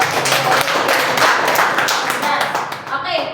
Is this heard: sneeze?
no